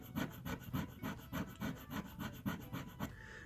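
Gold jewelry, 10 karat, scraped in long strokes across a test stone, making a dry rhythmic rasp of about a dozen even back-and-forth scratches close up, with no talk.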